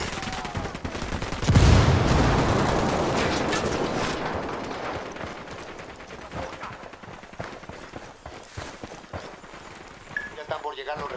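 A frag grenade bursts in a loud, heavy blast amid Ghost Recon Wildlands combat, followed by a long stretch of scattered, rattling gunfire and shots, with voices talking over the firefight.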